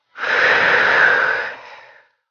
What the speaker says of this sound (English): And breathing out.